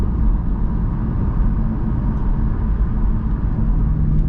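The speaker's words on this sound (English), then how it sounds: "I do love a good turbo sound." A stage 3 tuned Volkswagen Golf R making 530bhp drives at pace with a steady, loud low rumble, constant engine and road noise, and no distinct turbo whistle or flutter standing out.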